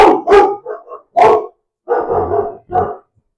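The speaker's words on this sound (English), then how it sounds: "dogs don't even know what they're barking at." A dog barks in several sharp bursts, a quick double bark, a softer pair, then two more loud barks close by.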